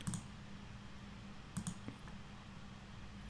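Mouse clicks in PLC simulator software, a few faint separate clicks near the start and around the middle over a low steady hum, with no talking.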